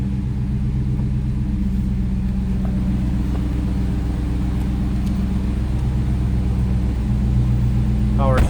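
A 5.7-liter Hemi V8 in a 2023 Dodge Challenger R/T Shaker idles with a deep, steady rumble throughout, close and loud, then rises into a brief rev at the very end.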